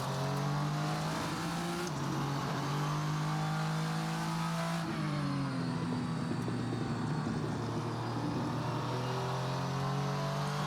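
A VRC Vendetta V60 race car engine in the video game Assetto Corsa hums and revs steadily, shifting pitch at gear changes, with a continuous high-revving drone and no voices.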